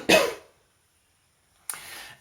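Two sharp, close coughs from one person, separated by over a second of silence, each a harsh burst that tails off quickly.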